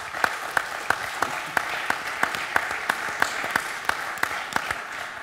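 Audience clapping at a French farmers' university panel on local livestock breeds, a sparse, steady round of individual claps with sharp regular hand strikes, moderately close and continuing throughout without speech.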